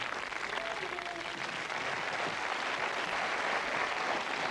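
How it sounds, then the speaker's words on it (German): A room of listeners gives a short round of applause for two guests at a German-language event, a continuous wash of clapping throughout, fairly quiet and steady. "Können wir noch mal einen kleinen Applaus haben für Christian und Isaac?"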